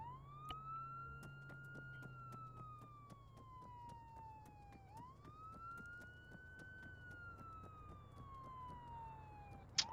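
Police car siren in the video game Arma 3 on a roleplay server, a steady wailing tone that rises and falls in long sweeps, loud and continuous over faint background engine hum and clicks.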